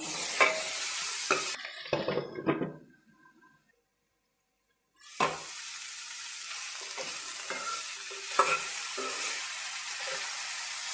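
Small chopped tomatoes frying in a pan: a loud, close sizzle with stirring scrapes that drops to near silence for a couple of seconds, then resumes steadily, with no talking.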